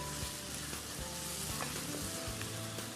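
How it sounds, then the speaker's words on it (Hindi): Gravy fries briskly in a pan, giving a steady, dense sizzle with occasional soft scraping taps from stirring and no voices. "इसकी भुनाई का अमल बड़ी तेज़ी से शुरू हो रहा है"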